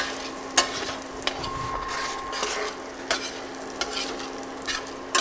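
Butter browning with sage leaves in a pan for a chicken breast sauce, a steady soft sizzle and fry running throughout, broken by several sharp utensil scrapes and stirs against the pan.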